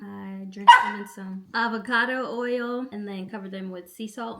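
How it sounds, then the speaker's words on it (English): A pet dog barks twice, sharp and close, early on, with a few softer yips later. Someone talks over it the whole time about making kale chips. "Sorry about my dog."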